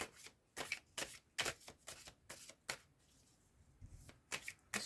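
Oracle cards are shuffled and drawn in quick, crisp bursts of riffling and flicking, close and fairly loud, separated by short quiet gaps, with no voice heard.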